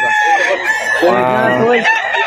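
Roosters crow among chickens for sale at a market stall, one loud close crow ringing out over clucking birds while people talk nearby.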